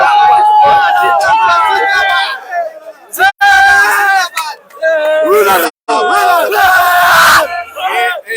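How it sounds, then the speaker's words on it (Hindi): Excited Afghanistan cricket fans celebrate outside the stadium after a T20 win over Pakistan, a dense crowd yelling, chanting and cheering loudly and continuously, with several voices shouting over one another. "सारे एक्साइटेड अफगानिस्तान के फैन हैं जो कि खुशी मना रहे हैं"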